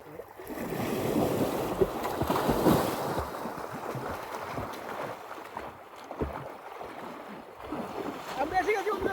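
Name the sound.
strong river currents flowing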